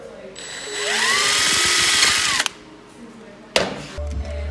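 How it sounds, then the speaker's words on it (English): A power drill whirs steadily for about two seconds, its pitch climbing as it enlarges a hole one size bigger, then cuts off; brief clatter follows. "I'm gonna drill the son of a bitch, just one size bigger"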